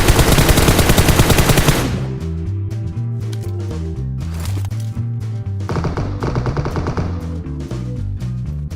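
Loud bursts of automatic gunfire from an enemy team in a battle-royale video game, an intense dense volley at first, then scattered rapid shots and rattling exchanges continuing over game background sound.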